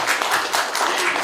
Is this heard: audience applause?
yes